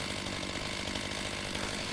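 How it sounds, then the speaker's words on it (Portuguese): A chainsaw in a post-apocalyptic survival video game runs continuously with a dense, harsh, buzzing roar at full loudness, unbroken and without talk. "A vibração da motosserra ali é braba."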